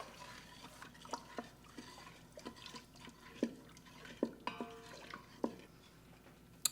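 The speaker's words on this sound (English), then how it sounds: "Stir it all together." Cornstarch slurry being stirred into a pot: a utensil scrapes and clinks against the pot in irregular taps, with soft liquid swishing, quiet and close.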